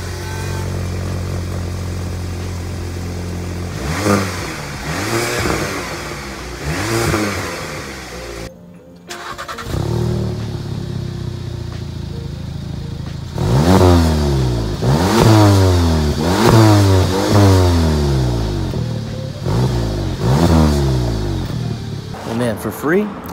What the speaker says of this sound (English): Like all I can hear is the turbo.